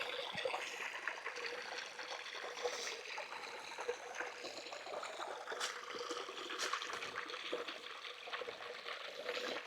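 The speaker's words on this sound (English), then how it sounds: "Little waterfall." A small waterfall trickles beside a mountain bike trail, a steady broadband wash of falling water running continuously and fairly close.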